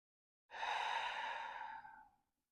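A single long, deep exhale during a slow yoga flow, breathy and close, swelling quickly and then fading smoothly over about two seconds with no talking.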